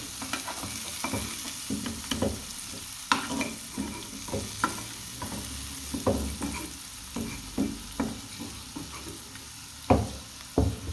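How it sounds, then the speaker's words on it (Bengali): Vegetables, including long beans, fry in a pan for a chicken vegetable stew while a utensil stirs them, giving a soft sizzle under repeated close scraping knocks at an irregular rhythm. "এগুলো আর একটু ভেজে নেব।"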